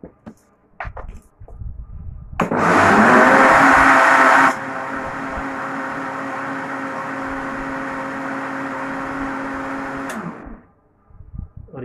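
A kitchen blender whirs loudly while blending strawberry juice, starting with a harsh roaring burst that settles into a steady motor drone for several seconds before winding down and stopping.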